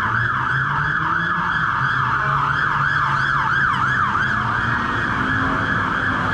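A fire engine siren wails on a London street near Chinatown and Soho, rising and falling in a loud, fast, repeating sweep over a low rumble of traffic.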